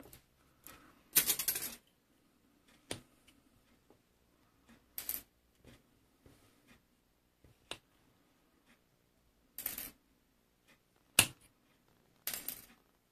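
Metal jump rings for a rustic open-spiral bracelet being snipped with cutters: sharp, crisp clicks come singly at irregular intervals, close and fairly quiet against a near-silent background with no talking.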